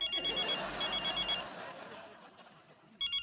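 A telephone rings in an Indian TV comedy household scene, repeated electronic trilling bursts in a steady pattern that pause briefly and then start again, fairly clear over a quiet background.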